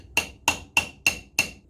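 Five evenly spaced, sharp metallic hammer taps, about three per second, drive a drilled Jaguar XK8 headrest part out while it is clamped in a vise, each strike close and ringing briefly.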